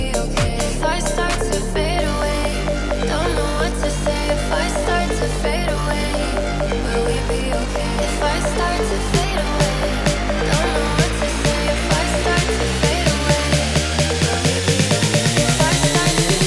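A synth riser climbs steadily two octaves in pitch over a thick, buzzing synth texture, its low tones sweeping upward toward the end, loud and continuous.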